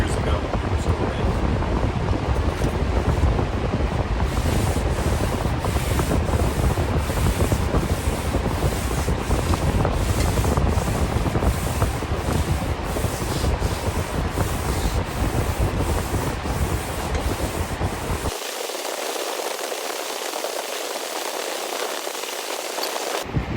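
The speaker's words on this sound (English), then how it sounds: "I'm not done block sanding yet" Long sanding block worked steadily across a 1985 Jeep CJ7 body panel, a loud continuous scraping rasp with regular back-and-forth strokes that drops into a softer, thinner rub near the end, with no talk.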